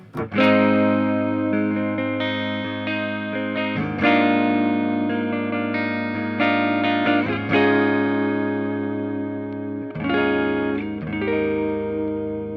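An electric guitar, a Fender Troublemaker Tele fitted with custom double-tap humbuckers, rings out loud and close through distortion and effects, with sustained chords and several strums alone and no talk.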